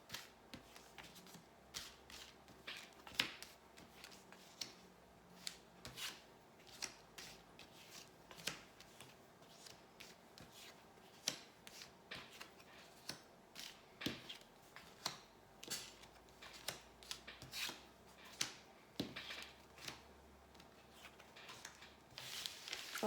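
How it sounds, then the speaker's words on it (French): Tarot cards are shuffled for a 15-card draw, soft rapid riffles and taps repeating in quick bursts, close and quiet, with no talking. "Allez, tirage à 15 cartes pour les cancers."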